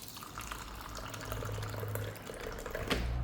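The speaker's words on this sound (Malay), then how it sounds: "Lepas lagi kita bubuh air panas." Hot water poured from a kettle into a glass holding honey and passion fruit, a continuous close splashing pour that fills the glass over a few seconds, with no talk.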